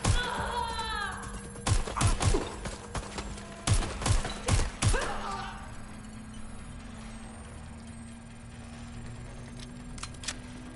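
Gunfire in the video game Watch Dogs Legion: a tight cluster of sharp shots and bursts fills the first half, then gives way to a quieter background hum with a faint thump near the end.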